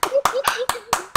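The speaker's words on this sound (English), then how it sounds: "I'm clapping for that one." Six sharp hand claps, evenly spaced about a quarter second apart, loud and close, with a voice talking faintly underneath during a turn-based fantasy board game.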